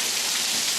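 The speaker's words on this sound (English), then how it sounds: "for a sudden rain like this, that's crazy" Heavy rain pours down in a sudden storm, a dense, steady hiss of drops hitting surfaces close by, loud and unbroken with no voices.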